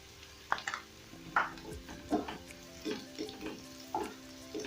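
Pilau masala spice tossed into a hot pot with meat, a soft continuous sizzle punctuated by repeated scraping stirs and light clinks of a spoon against the pot, quiet and close.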